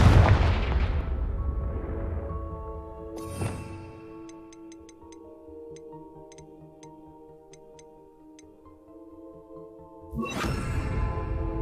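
Confringo fire spell cast in Hogwarts Legacy on PS5: a loud whooshing blast at the start, another sharp burst near four seconds and a final explosive hit near the end, over sustained tonal game music with faint ticking chimes.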